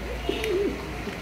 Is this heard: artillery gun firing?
no